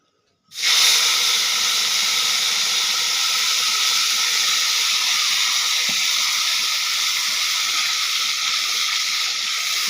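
A loud, steady hiss of sizzling starts abruptly and continues without letup, close and dense like spices hitting hot oil.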